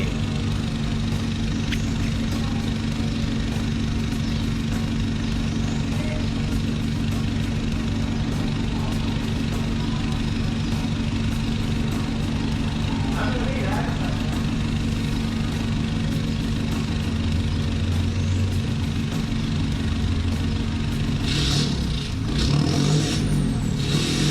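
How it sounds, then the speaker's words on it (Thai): Isuzu D-Max Cab 4 pickup, a 2020 model with a racing exhaust, rumbling at a steady, loud idle close by, with a brief rev near the end. "เดี๋ยวพี่ดีขออนุญาตเบิ้ลเครื่องให้ฟังนิดนึงดีกว่า"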